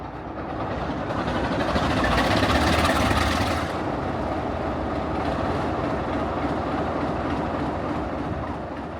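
SNCF CC 65512, a six-axle CC 65500-series electric locomotive, moving along the rails: a loud, continuous rumble and rolling rail noise with a brighter hiss swelling early, then a steady drone, with no voices.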